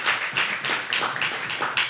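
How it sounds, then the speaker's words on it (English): Scattered clapping from an audience at a women's empowerment forum, quick sharp claps in uneven bursts, fairly light and close rather than a full roar. "Give her a round of applause one more time."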